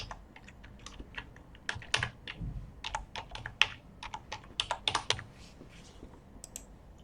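Someone types on a computer keyboard while working in an Excel spreadsheet, producing a run of quick, close key clicks in uneven bursts with brief pauses and no talk.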